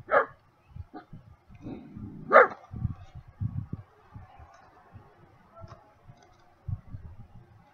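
A dog gives two sharp, loud barks a couple of seconds apart, followed by quieter scuffling, clicking and soft yips close by.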